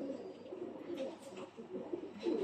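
Golden breeder pigeons cooing, soft low throaty coos repeating close by over a faint background, no talking.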